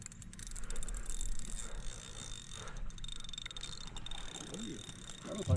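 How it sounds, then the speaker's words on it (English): A fishing reel's drag clicks in a ratcheting run while a catfish is fought on the Satee River. The clicking sits under steady outdoor noise with voices nearby. "Tighten the old drag up just a hair on that one."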